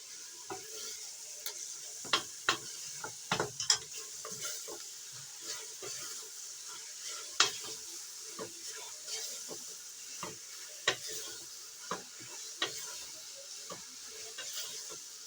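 Spinach and turnip sizzle in a hot pan while being stirred, with frequent sharp scraping clicks of the spoon against the pan over a steady frying hiss, close and moderately loud, with no talking.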